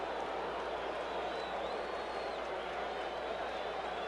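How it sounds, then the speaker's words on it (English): Stadium crowd at the 1982 World Series Game 7 between the Brewers and Cardinals, a steady broad roar of many voices rising slightly, heard alone without commentary. "You heard the crowd react with Paul Suter"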